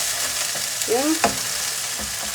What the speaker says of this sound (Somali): hilibkaas asiga ayaa biyo dhalaayo, biyihiisa ka baxo, biyihiisa isku dhex kariyo